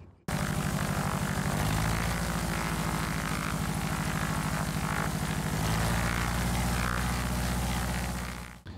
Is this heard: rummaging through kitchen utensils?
no